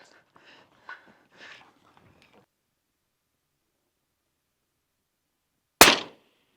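A single sharp, loud crack rings out near the end after a long quiet stretch, the report of a rifle shot at an exploding target 600 yards away, preceded by faint distant voices.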